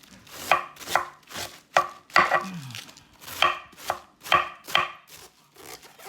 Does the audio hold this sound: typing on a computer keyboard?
no